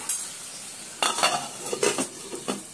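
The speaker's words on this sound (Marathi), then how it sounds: "तेल गरम झाले. ही कलेजी आता आपण 5 मिनिटाची वाफवून घेऊ." Chicken liver cooking in hot oil in a pan, with sizzling bursts and repeated stirring scrapes of a utensil against the pan, close and moderately loud after a brief quiet start.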